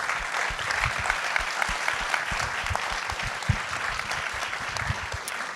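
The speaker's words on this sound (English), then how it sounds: "give a round of applause to this amazing panel" An audience at a film festival panel applauding, steady, moderately close clapping with distinct individual hand claps standing out, continuing without a break and with no talking.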